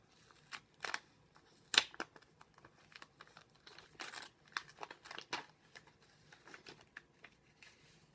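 A paper envelope is torn open and its paper crinkles in a quiet room, with a series of close, sharp rustles and crackles coming in irregular bursts and one louder rip near the start.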